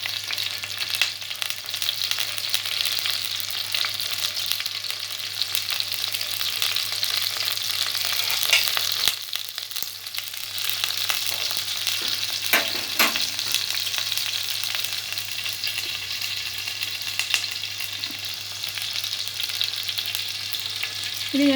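Mustard seeds and curry leaves fry in hot oil for a coconut-free red chili curry, giving a steady, loud, close sizzle with a few sharp crackles and pops, and no voices.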